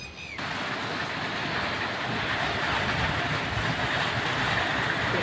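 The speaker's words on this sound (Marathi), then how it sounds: "पाणी पडा लागला औरंगाबादने पाणी पडा लागला" A dense, steady roar of heavy summer rain in Aurangabad, India, pours down without a break, loud and close, with no voices.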